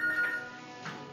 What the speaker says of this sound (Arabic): شوف تليفون